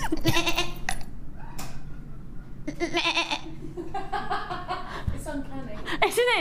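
A man imitates a goat with a series of nasal, wavering bleats interspersed with chuckles and breathy laughter, close and fairly loud, ending on a rising quavering bleat.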